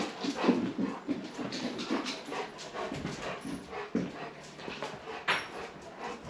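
Excited dogs whimper and pant inside a house, with close, restless breathy panting and high whiny yelps scattered throughout at moderate volume, plus faint rustling movement.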